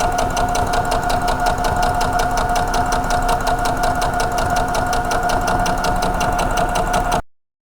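A sewing machine stitches a Dresden plate quilt candle mat, its needle chattering in a fast, steady mechanical rhythm with a constant hum underneath until it stops abruptly.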